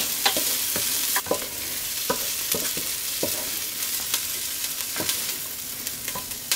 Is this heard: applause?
no